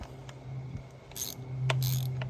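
Close mechanical clicking from a worn ratchet comes in a few sparse clicks, along with two brief raspy bursts over a low hum, while changing ignition coils on a 1994 Evinrude 25hp two-stroke outboard.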